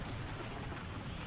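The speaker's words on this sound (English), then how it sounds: "was that a Big Bang attack?" A Big Bang attack explosion from the Dragon Ball Super anime, a continuous loud roaring blast rumble that fills the whole moment with no pause.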